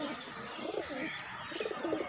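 Domestic pigeons coo softly and continuously at close range, with low rolling calls against a faint background hiss.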